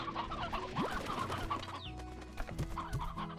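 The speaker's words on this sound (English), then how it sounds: "I don't trust the chickens not to rise up against me" Chickens cluck in the video game Slime Rancher, with several short clucks and squawks scattered over a soft background hum and no talking.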